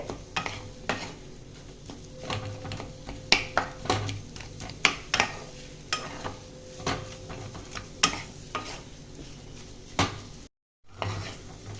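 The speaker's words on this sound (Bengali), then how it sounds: "আলুটা একটু 2-3 মিনিট একটু নাড়তে হবে" A spatula stirs mashed potato frying in a pan for masala dosa filling, making quiet, irregular scraping taps against the metal over a faint sizzle, with a brief cut near the end.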